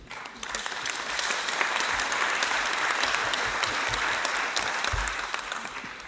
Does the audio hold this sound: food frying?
no